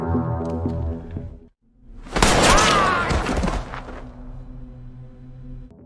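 A gunshot in a Squid Game film scene: a single loud, sharp burst after a short silence, ringing and decaying over a couple of seconds, then a sustained musical or ambient tone underneath.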